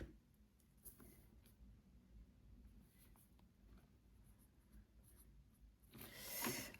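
A pen scratches across paper close by as someone writes down a monthly budget at a table, quiet irregular strokes continuing steadily with a louder rustle near the end, with no talking.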